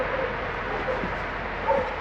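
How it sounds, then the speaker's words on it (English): Security dogs bark and yip from a distance near a chemical factory in Russia, a few short yelps standing out over a steady noisy background. "And there's loads of barking dogs."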